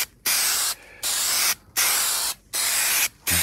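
Spray nozzle laying down a web-like, stringy coating in four loud bursts of hissing spray, each separated by a short pause, with no talking.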